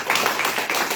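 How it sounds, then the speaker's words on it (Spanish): Church congregation clapping together during a Spanish-language worship service, a dense, steady patter of many hands at close range, filling the short moment without any voices. "Vamos a darle un aplauso a nuestro Señor."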